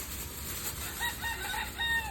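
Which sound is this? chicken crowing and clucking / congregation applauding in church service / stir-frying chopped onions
chicken crowing and clucking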